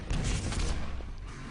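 Railgun shots fire in a competitive online arena shooter match between Denmark and Italy, a dense cluster of harsh, broadband blasts packed close together and followed by a fading tail.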